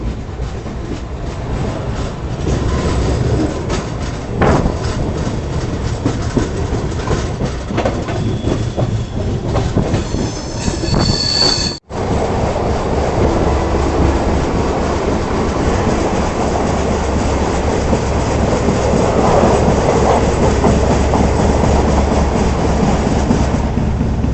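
Andhra Pradesh Express rolls out of Chandrapur station, a loud continuous rumble and rhythmic clatter of wheels over rail joints, with a brief squeal and a short dropout partway through.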